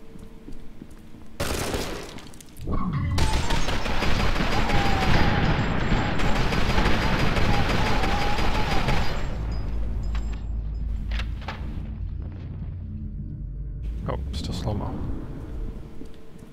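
Gunfire and sniper shots from F.E.A.R. 2 crack out, then a long, heavy rumbling barrage of explosive combat noise swells and slowly fades under scattered later shots.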